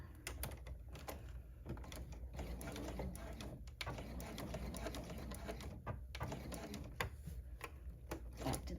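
A sewing machine runs steadily, stitching satin binding onto a stretch fleece blanket, with a continuous close mechanical whir and clicking needle rhythm throughout at a modest level.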